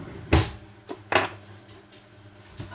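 A teaspoon picked out from among kitchen utensils: a few sharp metallic clinks and clatters, close by, with a loud rattle first, then two more knocks and faint taps afterward.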